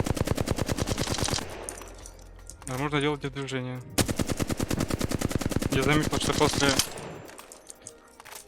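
Rapid automatic weapon fire in the video game Apex Legends comes in long, sharp bursts with short pauses between them, loud and close, while someone talks over much of it.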